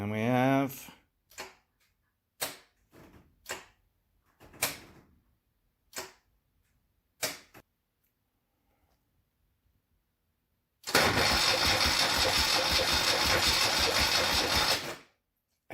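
The starter motor on a Moto Guzzi cafe racer build stutters through a few short clicks and bursts, then cranks hard in one loud, sustained grinding whir of several seconds. Silence separates the attempts.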